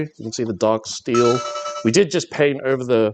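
A phone ringtone chimes with a steady tonal pattern beneath a person talking nearby, the ringing partly masked by the speech.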